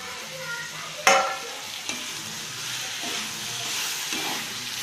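Prawns hiss and sizzle in a hot pan, with a sharp burst of crackling as they are dropped in, then steady frying with light stirring.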